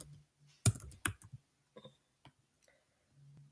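A few scattered keystrokes on a computer keyboard, two sharper clicks followed by fainter taps, close and quiet, with no talk.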